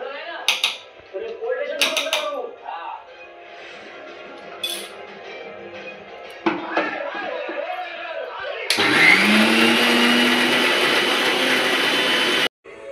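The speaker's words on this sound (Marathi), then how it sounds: "चला आता आपल्याला मिक्सरला लावून घ्यायची चटणी" A mixer grinder blending chutney for Maggi noodle khausa, a loud steady whir that starts abruptly after earlier clinks and kitchen clatter, running for about four seconds before cutting off; voices are heard beforehand.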